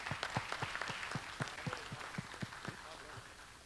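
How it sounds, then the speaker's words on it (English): Handclaps ring out at a show event: a quick run of sharp, fairly regular claps from a small audience. They stay moderately close and fade toward the end. "so just everyone give him a round of applause."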